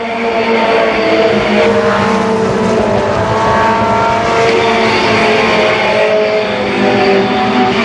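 Stock cars racing at Columbus Motor Speedway in 1991, a loud, continuous roar of several engines at speed, rising and swelling as cars pass close by.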